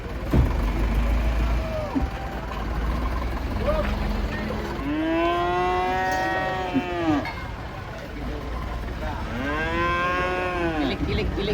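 Several long, deep moos from large cattle being unloaded from a truck at a livestock market ring out over a noisy outdoor background, with faint voices murmuring in between.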